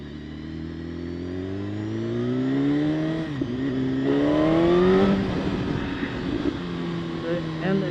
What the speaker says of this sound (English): And the exhaust, it just sounds amazing